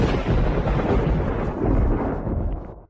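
A loud, rumbling thunder clap rolls for about three seconds as a dramatic sound effect, booming heavily before cutting off, with no voices.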